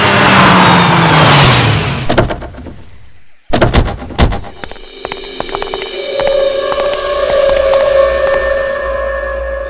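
A car approaches with a rising engine drone, cuts out abruptly as it stops, then a car door opens and shuts with clunks, followed by a low idle and steady hum in the background.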